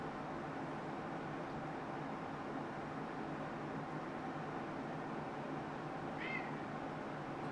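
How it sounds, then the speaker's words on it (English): A house cat named Jocko gives a short, faint meow near the end, nearly buried under a steady hiss of background noise in an indoor hobby room. "do you hear one of the cats?"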